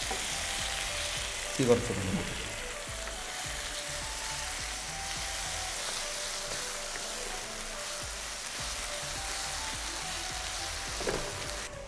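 Tomatoes frying in a pan on a cookery show, a steady close sizzle running throughout with a brief louder stir or clatter near the start, and a few quiet words spoken over it.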